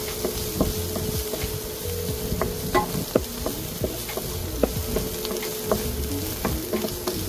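Whole mushrooms frying in a hot pan, giving a steady close sizzle with scattered crackles and light stirring scrapes throughout.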